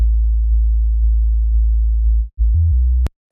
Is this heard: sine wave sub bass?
yes